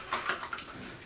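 Brief splash of water as a mouth is rinsed after brushing teeth, a faint, short burst of sloshing and trickling heard alone at close range.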